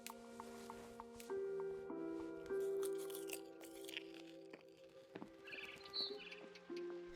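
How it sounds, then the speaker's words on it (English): Soft bird chirps and tweets from the video game What Remains of Edith Finch come over sustained musical tones and a few crunchy clicks, a synthetic soundscape without speech. "Then I heard chirping outside my window."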